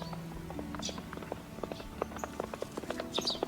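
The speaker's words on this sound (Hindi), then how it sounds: "भोला उस घोड़े के घाव पर जड़ी बूटी लगा देता है, जिससे वह घोड़ा सही हो जाता है और चला जाता है।" A horse in an animated Hindi story walking off, light rhythmic clip-clop hoofbeats at moderate distance over soft background music.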